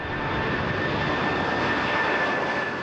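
A jumbo jet's engines roar as a steady, loud, continuous broadband rush with a faint high whine on top, unbroken and with no voices.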